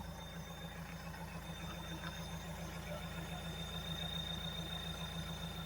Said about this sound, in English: And then you can hear the exhaust note on this guy.